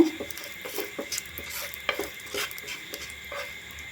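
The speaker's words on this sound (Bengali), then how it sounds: "সরিষার তেল দেব ফোড়নে দেব কালো জিরে গোটা লঙ্কা একটু গোটা লঙ্কা কালো জিরেটা নাড়াচাড়া করে নেব" Black cumin seeds and whole dried chillies stirred through hot mustard oil in a pan, with a soft steady sizzle under repeated light scrapes and clinks of a spoon against the metal, close and fairly quiet.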